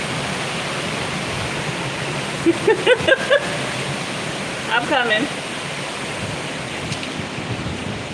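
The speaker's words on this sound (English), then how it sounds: "That ocean is looking lovely." Ocean surf at Osu Castle on the Ghana coast forms a steady, broad wash of breaking waves throughout, with voices talking briefly over it in the middle.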